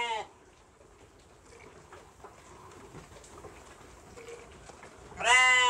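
A sheep bleats loudly and close while being milked, once at the start and again at the end. Quiet rustling and handling noise fill the gap between the two calls.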